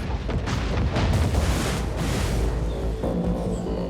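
Anti-aircraft guns fire from the WWII aircraft carrier Hornet, a dense, continuous barrage of loud booming reports blending into a heavy roar.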